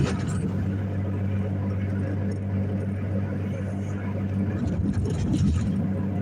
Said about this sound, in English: So the exhaust hits the ground about 3 foot outside the corners of the car on both corners. That's actually why it's so loud.